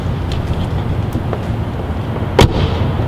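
A Tesla Model 3 door fitted with added rubber seals shuts once with a single deep, muffled thud against steady background rumble.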